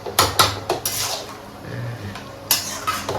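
A metal lid clanks onto a pot of dal: several quick close metallic clinks and rattles, a pause, then another couple of clattering knocks as it settles.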